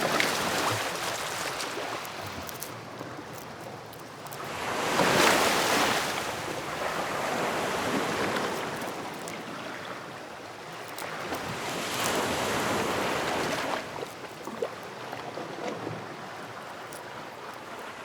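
Sea waves surge and break against a rocky shore in a steady roar, swelling and fading in long slow cycles with wind noise, loud and continuous and with no voices.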